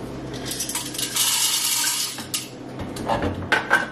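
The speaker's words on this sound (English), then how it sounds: "And I'm gonna add these 18 grams to the hopper." Eighteen grams of coffee beans are poured into the hopper of a Breville Barista Express espresso machine, giving a steady rattling, clattering stream of small hard pellets close up, without talk.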